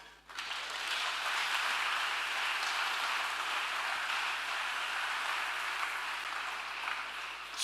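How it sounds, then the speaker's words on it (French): A church congregation claps steadily in acclaim of the Lord at a thanksgiving morning service, a dense, even wash of many hands sustained throughout without a voice on top. "Acclamons le Seigneur."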